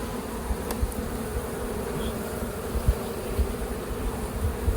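Honeybees buzzing around a mini-plus beehive outdoors, a steady dense hum of many insects close by with occasional louder passes, no talking.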